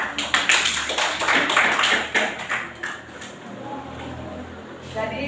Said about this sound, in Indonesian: Ya, tepuk tangan untuk Ocha.